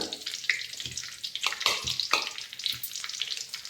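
Mustard seeds crackling in hot chili oil, rapid irregular pops and sputters over a steady sizzle, close and fairly loud, with no talking.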